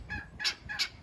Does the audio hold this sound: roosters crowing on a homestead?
yes